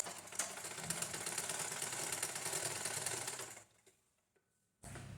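A sewing machine stitches a lined blouse with a steady, fast mechanical whir that runs for several seconds, stops into near silence and then starts again, with no talk.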